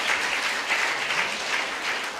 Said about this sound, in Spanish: Dale palmas a Jesucristo.